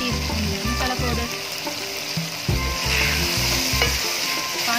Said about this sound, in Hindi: ये चने की अच्छे से भुनाई हो चुकी है